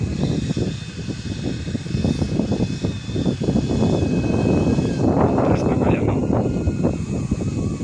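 An EC 145 scale model helicopter flies over UP Field on a windy day, giving a steady, fairly loud rotor and motor drone mixed with wind buffeting, and people talk nearby.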